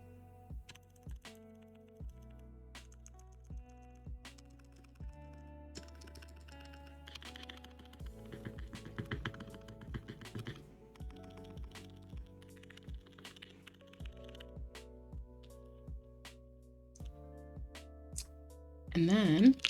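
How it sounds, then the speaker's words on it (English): A QK80 keyboard fitted with Gateron Oil King switches and GMK Mictlan keycaps is typed on up close, with a dense run of muted, deep keystrokes that varies in pace and includes a few heavier, thocky presses. "QK80. This is with Gat Oil King switches and the GMK MICTLAN keycap set."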